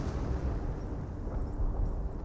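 Artillery barrage explosions rumble in a Company of Heroes 1 match, with 25-pounder guns shelling enemy forces: a dense, continuous low booming roar at moderate distance, with no talk.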